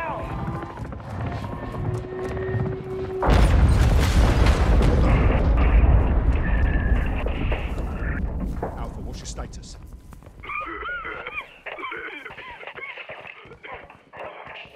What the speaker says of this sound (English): Second missile!